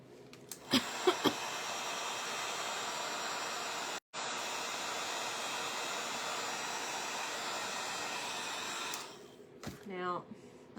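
Hair dryer blowing steadily on brown glass bottle being painted black, a loud continuous whooshing hiss running about eight seconds, briefly cut once, with clicks at the start and a short voice near the end.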